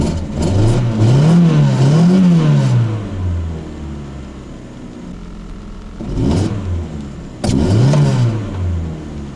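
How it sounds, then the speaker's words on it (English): Car engine revs hard as the gas pedal is stomped, rising and falling in a long wavering surge, then two more short sharp blips after a pause, loud and close with no talk. "if you had to get the engine to actually rev fast. But if you stomped on it,"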